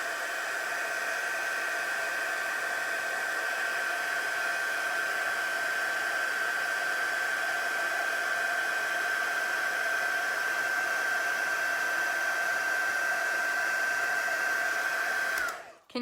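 A heat tool blows hot air steadily onto bleached fabric, a constant close-up whoosh with a high whine that runs evenly for about fifteen seconds before switching off abruptly at the end; no talking.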